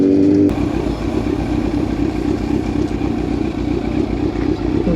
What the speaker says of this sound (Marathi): म्हणजे हिचा आवाज आहे ना 5 ते 6 किलोमीटर लांब ह्या गाडीचा आवाज ऐकायला जातो